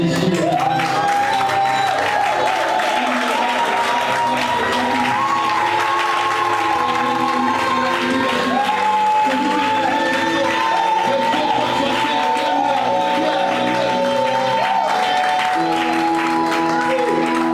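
A congregation at a church service cheers and applauds to acclaim Jesus, a steady, loud crowd roar with sustained voices and clapping across the whole stretch.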